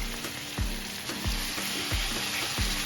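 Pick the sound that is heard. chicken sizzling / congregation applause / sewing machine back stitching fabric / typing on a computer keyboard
chicken sizzling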